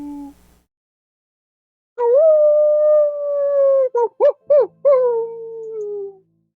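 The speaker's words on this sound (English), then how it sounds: "you hear in the distance a wolf howl" A single wolf howls, one long sustained wavering note that breaks into a few short rising yelps before trailing off, clear and prominent against a silent background.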